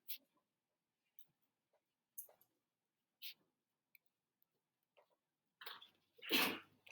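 A faint, quiet sneeze near the end after scattered soft clicks and rustles in an eighth-grade math class; nobody speaks.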